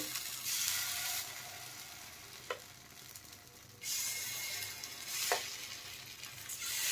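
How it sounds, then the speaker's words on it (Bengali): Semolina (sooji) added little by little to hot oil in a pan, giving a steady hissing fry that swells and fades, with a couple of brief clicks from a spoon, quiet and close, no speech. "দেখেন তেল গরম হয়ে গেছে। এখন সুজিগুলো আমি দিয়ে দেব।"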